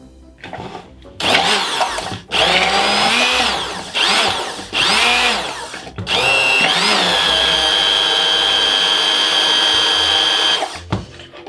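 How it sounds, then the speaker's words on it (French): An immersion blender emulsifying chocolate ganache with milk whirs loudly in a few short pulses, then runs in one long, steady, high-pitched burst before cutting off abruptly. "C'est ce qu'on appelle tout simplement un mixeur plongeant."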